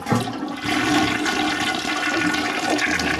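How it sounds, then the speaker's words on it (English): A toilet flushes with a strong siphon jet, a loud rushing swirl of water that starts abruptly and keeps gurgling and draining steadily for several seconds. "See, there's that siphon jet, and right at the bottom there, it let air in."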